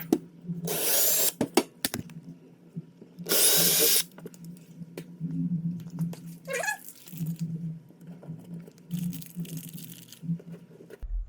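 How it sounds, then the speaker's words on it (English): Two short bursts of a power drill with a 3/16-inch bit whirring into material to make pilot holes for anchors, loud and close, separated by quieter handling clatter and low hum. "we're going to use a 3/16 inch drill bit to make our pilot holes"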